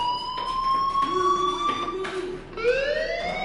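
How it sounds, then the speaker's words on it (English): A fire alarm rings in the video game Life is Strange, a loud electronic tone that repeats and shifts in pitch, sounding steadily with no talk over it. "Hey, do you hear that fire alarm?"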